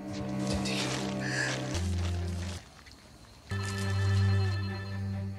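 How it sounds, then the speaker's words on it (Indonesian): A phone rings in bright, repeating electronic tones over a low humming musical drone, with a brief quieter gap before the ringing resumes. "Lalu terdengarlah suara ponsel berdering"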